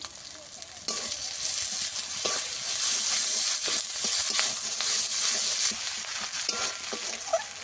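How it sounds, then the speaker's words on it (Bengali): Ginger-garlic paste frying with onions in oil while fish curry is cooked, a loud steady sizzle with steamy hiss and occasional stirring scrapes, close up and without speech. "আদা রসুন দিয়ে আবারও কিছুক্ষণ ভেজে নেব"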